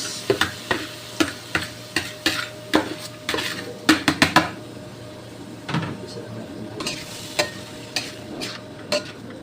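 Bopis cooks in a pan with repeated metal clinks of a utensil scraping and stirring, under a low steady sizzle, close and uneven in rhythm.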